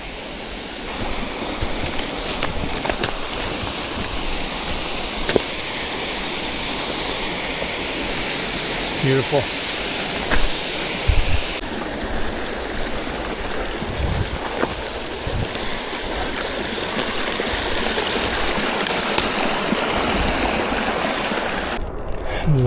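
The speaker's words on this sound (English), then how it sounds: "this gorgeous little waterfall" A small waterfall on Hedrick Lake Trail in northern British Columbia pours steadily in springtime high water, a broad continuous rushing roar close by, with a brief spoken word and occasional footsteps or handling over it.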